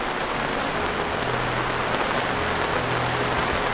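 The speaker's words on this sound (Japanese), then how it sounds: "めちゃくちゃ雨降ってる。" Heavy rain beats on a Coleman Tough Screen 2-Room tent at a campsite during a heavy rain warning, a loud, dense, unbroken hiss of drops drumming on the fabric, with no voices.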